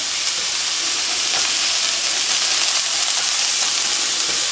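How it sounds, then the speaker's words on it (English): Garlic and vegetables frying in a hot pan for beef empanadas, a loud, dense, unbroken sizzle with a steady hissing roar throughout, heard up close without any voices. "Now that garlic's going to get hot fast, so we want to keep this moving."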